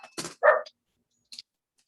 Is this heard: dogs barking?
yes